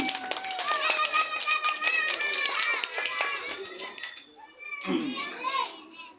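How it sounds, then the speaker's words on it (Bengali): Schoolchildren clap together at a performance, a dense patter of many hands under children's voices, dipping briefly before a second round of claps and chatter. "জোরে হাততালি"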